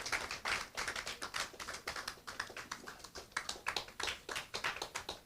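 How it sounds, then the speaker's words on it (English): Warm round of applause from an audience honoring a dignitary at a Ramayan satsang and classical singing celebration, dense clapping with irregular bursts, fairly faint and distant, with no talk over it. "Let's give our dignitary for tonight, our honoree, a warm round of applause"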